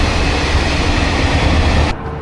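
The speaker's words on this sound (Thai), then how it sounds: "ตอนนี้ผมก็มาอยู่รอรถไฟละเดี๋ยวขึ้นตู้ที่ 5" A train at Guiyang railway station in China gives a loud, steady rumble and hiss close by, which cuts off abruptly near the end.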